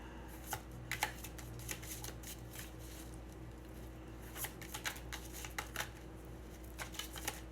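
Tarot cards being shuffled by hand, a quiet, close series of rapid flicking riffles and soft slaps that repeat in uneven bursts.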